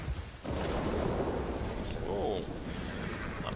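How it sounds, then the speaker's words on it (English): Rolling thunder from a lightning strike in the video game Red Dead Redemption 2, a loud, sustained broadband rumble that swells in after a brief quiet start and carries on to the end. "lightning striking."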